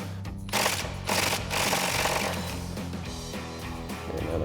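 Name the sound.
impact wrench with 10mm socket loosening brake caliper banjo bolt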